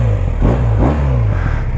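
Close, loud rumble of a 2023 BMW R 1250 RT motorcycle engine running, a steady low throb with slight rises in revs and some mechanical clatter.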